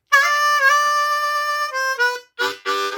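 Blues harmonica plays a single-note riff line, bright reedy held notes with bends, a short gap, then two final punchy notes, loud and alone.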